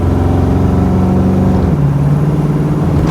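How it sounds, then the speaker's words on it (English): A car with an LS-swapped engine pulls away, its steady mid-pitched engine drone loud and close, the tone dropping as it shifts and keeps cruising. "let's take this thing for a cruise, for a drive, and see how it drives"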